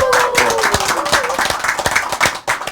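A studio audience at a Korean speech talk show claps in a quick, fairly close burst of individual hand claps, with a voice speaking briefly over the start.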